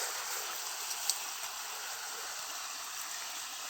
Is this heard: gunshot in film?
no